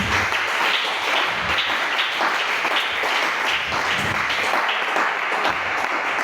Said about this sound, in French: Acclamez pour le Seigneur Jésus-Christ